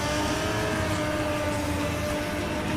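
A drift car spinning donuts on a wet track at the British Drift Championships in Teesside, a continuous revving engine drone with whirring tyre noise, heard from a moderate distance and without talk.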